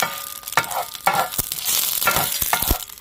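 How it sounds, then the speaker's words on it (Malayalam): Dried red chillies and mustard seeds crackle in hot oil for Kerala-style pineapple pachadi, with a close, lively sizzle and repeated scraping stirs of a spoon in the pan, no talk. "വറ്റൽമുളക് ഇട്ടിട്ട് ഇതേപോലൊക്കെ നമ്മൾ ഇളക്കി കൊടുക്കുക."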